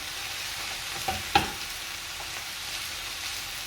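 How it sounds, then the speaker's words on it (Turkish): Oyster mushrooms sizzle steadily in a frying pan while a utensil stirs them, with a couple of sharper scraping knocks near the start and a constant close hiss throughout. "Şöyle karıştırıyoruz. Fazla parçalamadan."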